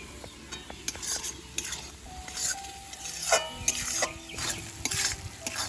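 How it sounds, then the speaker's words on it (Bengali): Spice paste frying and sizzling in a pan while being stirred for a rohu fish posto dish, a steady close crackle broken by scraping spoon strokes and light clinks of metal. "মশলাটা হালকা আছে খুব সুন্দর করে ভাজিয়ে নিব"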